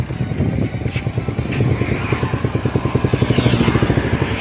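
A motorcycle being ridden gives a close, rhythmic, rapidly pulsing engine thrum that quickens and grows slightly louder toward the end.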